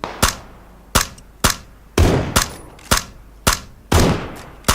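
Sharp, loud gunshots from the Battlegrounds video game, about nine cracks fired at roughly half-second to one-second intervals in an irregular rhythm. Each one is close and has a short decaying tail, and no one speaks over them.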